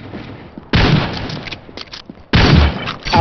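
Two loud, booming sniper rifle shots in a mobile shooter game, each a sudden heavy blast with a short rumbling tail, about a second and a half apart.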